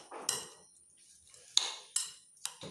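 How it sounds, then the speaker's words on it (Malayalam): A spoon clinking against a bowl while shawarma sauce with lemon juice and salt is stirred, four or five sharp metallic taps spaced irregularly, with softer scraping between them, close and fairly quiet. "നന്നായിട്ട് ഇളക്കി മിക്സ് ചെയ്യാം."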